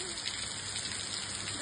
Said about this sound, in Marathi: पाऊस पण जाम पडतोय